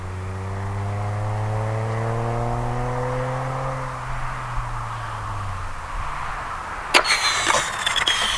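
An Arrows RC Viper 50mm electric ducted-fan jet passes at half to three-quarter throttle, its whine loud and close at first, then falling in pitch and fading as it moves away, with a sharp clatter near the end.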